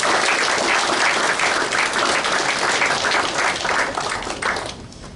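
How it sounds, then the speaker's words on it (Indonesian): Sustained, full applause from an audience at a Christmas gathering of Indonesian Catholic young people in Osaka, greeting the youth community's board members. The clapping stays dense and even for about five seconds, then thins out at the end with no talk over it. "Marilah kita memberikan aplaus yang"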